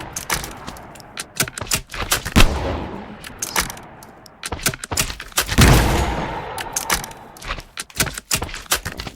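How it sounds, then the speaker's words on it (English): A shotgun fires in a Minecraft gun mod, giving loud, sharp repeated blasts with short gaps between them and a couple of heavier booming shots. Clicks and clacks sound between the shots. "And then this is a shotgun."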